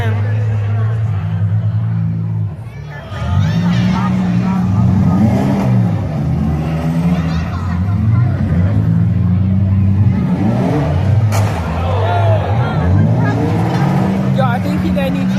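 Demolition derby cars at the Butler farm show rev their engines in rising and falling roars, loud and continuous over crowd babble, with people talking nearby.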